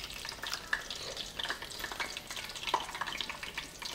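Eggplant and mushroom tempura frying in hot oil, a steady dense crackle and sizzle with scattered sharper pops, close by and fairly quiet, with no voices.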